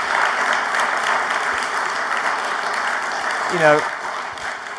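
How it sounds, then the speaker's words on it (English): An audience applauds a panel at a UK business transformation event, steady clapping filling the room while someone briefly speaks over it near the end. "Give them a round of applause."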